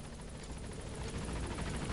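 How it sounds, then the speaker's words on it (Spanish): Helicopter approaching in Metal Gear Solid V: The Phantom Pain, a faint, steady rotor chop and engine drone, low in level and continuous with no talk. "Pero escucho el helicóptero."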